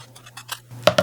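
Scissors snip paper for a junk journal folio page, a few quick soft cuts followed by two sharper, louder snips close by.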